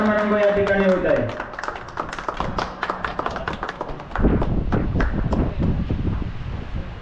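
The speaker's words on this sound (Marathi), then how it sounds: "जोरदार टाळ्या" Loud applause from a crowd at a felicitation ceremony during a Shri Dev Brahman temple festival, starting under an announcer's voice with music, then swelling into dense, sustained clapping for the rest of the clip.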